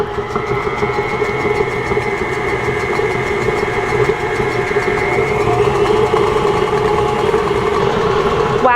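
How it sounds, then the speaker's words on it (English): Stand mixer or food processor whizzing butter and sugar at medium-high speed for pistachio muffins, a steady, loud mechanical whir with a constant motor drone that runs unbroken throughout, with no talking. "we're gonna drop the lid on this and whiz it for about 2 minutes at like a medium-high speed to get some air incorporated into that butter and sugar"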